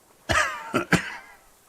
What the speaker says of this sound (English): He coughs once more, then puts his hand on his belly.